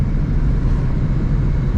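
Steady, loud low rumble of a 900-horsepower Ford Mustang engine cruising at night, a continuous drone without pauses or revving.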